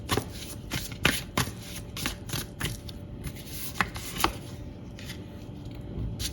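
Tarot cards are shuffled by hand in a rapid series of crisp riffling bursts and soft papery slaps, close-up and fairly quiet, with no speech.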